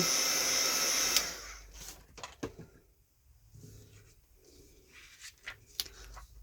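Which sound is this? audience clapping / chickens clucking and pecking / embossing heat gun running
embossing heat gun running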